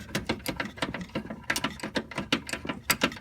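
Socket ratchet fitted with a 16 mm deep socket working loose the rear shock bolts on a Dodge Magnum, a rapid run of close, crisp clicking pawl ratchets repeating in quick bursts, with no talking.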